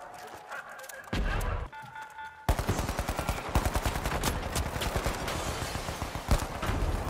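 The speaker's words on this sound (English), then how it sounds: "I'm getting shot by the turret" Rapid turret gunfire in THE FINALS video game, a dense fast string of shots that rattles on steadily for several seconds after a few louder opening bursts.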